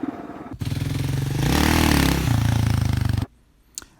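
A KLR650 motorcycle engine revs sharply for a wheelie, a loud close blat that climbs to a peak, holds, then drops and cuts off, followed by a brief clatter.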